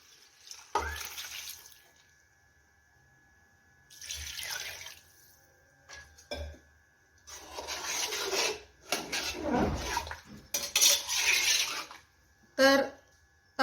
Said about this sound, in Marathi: इथे आपण पाणी ओतून घेतलेलं आहे